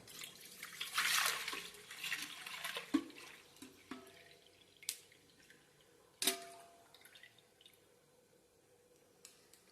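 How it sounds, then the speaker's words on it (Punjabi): Milk pours into a cooking pot in a short liquid stream, followed by scattered light clanks and drips in a quiet kitchen. "ਦੁੱਧ ਚੱਕਿਆ ਤੇ ਦੁੱਧ ਆਪਾਂ ਇਹਦੇ ਵਿੱਚ ਪਾ ਦੇਣਾ"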